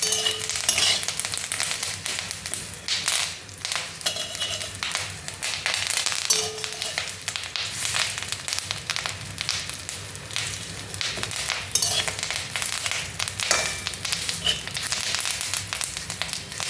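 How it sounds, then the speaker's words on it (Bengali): Neem leaves fry in hot oil for an eggplant dish, giving a loud, steady crackling sizzle with scattered taps and stirring sounds throughout, no voices. "যতক্ষণ পর্যন্ত ফুটবে, শব্দ হবে, ততক্ষণ পর্যন্ত কাঁচা পাতাগুলি এখনো ভাজার বাকি আছে"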